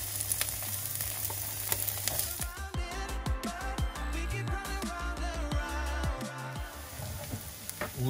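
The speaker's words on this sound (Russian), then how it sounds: "Первым мы будем обжаривать лучок." Onion fries in aromatic oil with a steady, quiet crackling sizzle, while clicking utensil taps and stirring noises run through the middle stretch.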